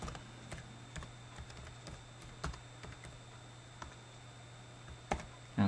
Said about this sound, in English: We have to log in with the same credentials as Steven.